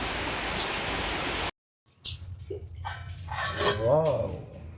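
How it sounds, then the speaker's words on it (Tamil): A pot of sambar with broad beans bubbles with a hissing, rain-like simmer, then goes quiet briefly before clinking and a voice speaking over the softer bubbling. "செம்மையாக கொதிக்கிறது."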